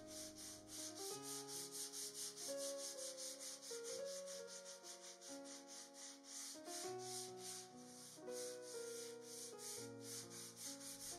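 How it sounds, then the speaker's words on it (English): Sandpaper of 180 grit rubs over a gessoed MDF artist panel in steady back-and-forth strokes, a soft rhythmic scratching that runs throughout beneath background music. "Now that the panel is dry, I sand it with a 180 grit sanding paper."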